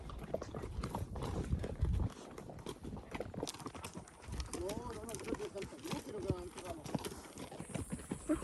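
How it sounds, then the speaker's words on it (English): Horse hooves clip-clop on a horseback ride in Chile, an irregular plodding rhythm heard close under frequent talking, with some wind and rustle around it. "We're horseback riding."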